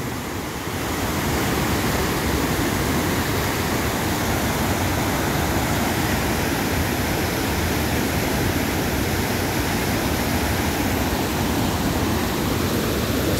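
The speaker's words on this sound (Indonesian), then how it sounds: "Sungai Situ Mandi namanya." The Aek Situmandi river rushes steadily past in a continuous broad roar of flowing water, loud and close, with no pauses or voices over it.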